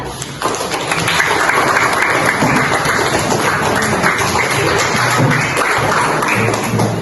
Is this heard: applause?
yes